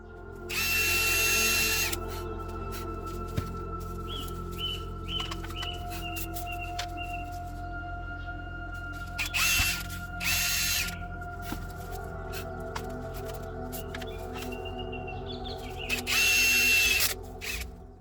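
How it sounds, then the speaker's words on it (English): A power drill whines in three short bursts with quieter gaps between, drilling a hole in the center of an epoxy resin plate, the motor's pitch holding steady each time, heard close and alone. "you're going to need to drill a hole in the center of each plate"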